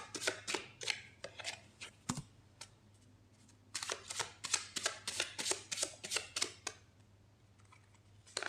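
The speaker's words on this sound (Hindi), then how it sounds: "यहाँ पे कार्ड्स मैंने निकाल लिए हैं।" A deck of tarot cards is shuffled and drawn up close in a quiet room, giving soft rapid riffling and slapping bursts in uneven clusters with a short pause midway.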